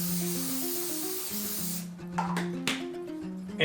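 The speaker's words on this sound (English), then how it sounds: "going to just give this a bit of a spray here." Several short hissing bursts of oil spray onto a baking-paper-lined pie tin, close and loud, over a steady tonal hum, followed by quieter clicks and taps.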